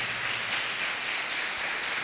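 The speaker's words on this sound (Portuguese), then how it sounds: "Aplauda bem forte ao Senhor." A church congregation applauding loudly, a dense, even wash of many hands clapping that continues without a break, no speech over it.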